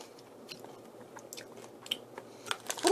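A crunchy corn snack from a Culture Cakes kit is bitten and chewed up close, with soft, irregular crunches that grow a little louder toward the end.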